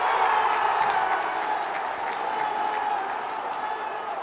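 Audience applause rings out with light cheering mixed in, a dense steady clapping that stays loud throughout and tapers slightly toward the end.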